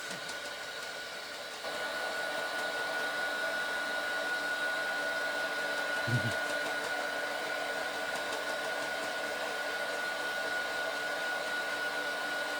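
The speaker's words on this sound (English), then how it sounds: "I have to give that a quick zap as well with my heat tool. Just to dry it off." A crafting heat tool switches on and blows a steady loud whirring rush of hot air to dry a handmade card, running continuously with a faint thump partway through.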